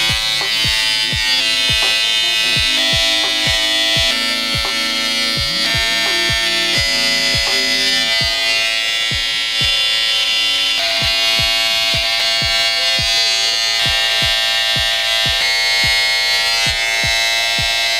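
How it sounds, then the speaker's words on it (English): Electric hair clippers shaving the neckline of an undercut with dreadlocks, a loud, continuous close-up buzz with rapid ticking pulses as the blade passes over the skin, with no talking. "what I usually do is I shave that part out, match it with this part, line my neck up"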